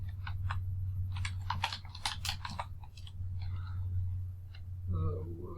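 Keys on a computer keyboard clatter in a quick run of close taps, then a few scattered presses, under a constant low hum, with a voice briefly speaking near the end.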